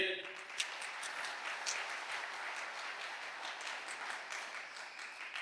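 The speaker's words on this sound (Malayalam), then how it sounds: "ഒന്ന് കൈയടിച്ചേ" Applause from a church congregation during a Malayalam sermon, steady broadband clapping lasting throughout, moderately loud and continuous without talk.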